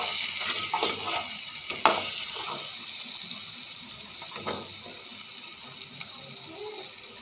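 Paneer with masala frying in a pan, a steady close sizzle with a few clattering stirs of a spoon against the pan near the start and midway, no talk.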